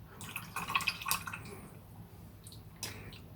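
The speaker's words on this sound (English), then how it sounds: "just rinse the brush off." Paint brush rinsed in a pot of water, a few small splashes and drips clustered early, then a quieter pause and one more brief swish near the end, close and soft.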